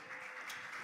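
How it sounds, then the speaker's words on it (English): Audience clapping at a National Action Network gathering as a woman is called up to the front; a brief, steady patter of applause at moderate distance, with no voices over it. "Clap it up for her."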